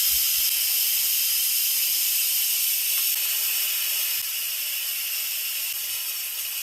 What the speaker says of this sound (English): So we're going to do a quick release.